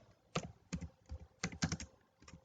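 Keystrokes clatter on a computer keyboard while HTML paragraph and strong tags are entered, coming in several short bursts of clicks with brief pauses between them, close and fairly quiet with no voices.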